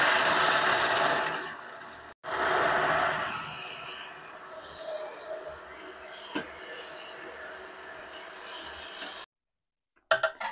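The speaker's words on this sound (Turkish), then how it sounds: "rondodan geçiriyoruz" A food processor grinds oven-roasted Antep pistachios into paste with a loud, steady motor whir that runs for several seconds, briefly cuts out, then resumes before stopping near the end.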